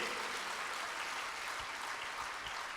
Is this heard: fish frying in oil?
no